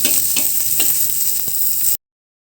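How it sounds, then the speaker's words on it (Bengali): Green chilies frying in hot oil in a pan, a loud close crackling sizzle with sharp popping bursts, running steadily for about two seconds before cutting to silence. "পেঁয়াজ রসুন আর টমেটো সালাদের জন্য কাঁচা মরিচ ভেজে নিলাম"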